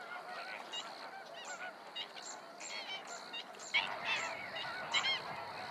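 A flock of flamingos in Mediterranean coastal waters keeps up nasal, honking calls, many voices overlapping, with a few louder bursts near the end.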